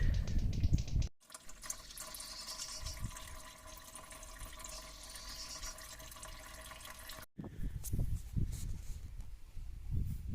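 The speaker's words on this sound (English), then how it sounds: "So we'll just let it drain out now and do its thing." Coolant draining from a Toyota Corolla 1.4 diesel engine, a steady faint trickle and splash of liquid running for several seconds, with brief quieter handling noises at either end.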